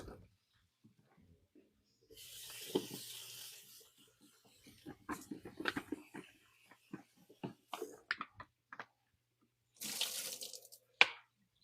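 A kitchen tap runs in two bursts as food is rinsed, a hissing stream of water with handling clatter and scattered small knocks between.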